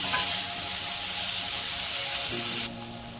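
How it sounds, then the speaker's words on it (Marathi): Tomatoes tipped into a hot pan for tomato chutney fry with a loud, steady sizzle and stir, which drops to a quieter, lower crackle near the end as the cooler tomatoes settle in; no talking. "आणि आता हे टोमॅटो यात टाकायचे आहेत, मिक्स करून घ्यायचं आहे।"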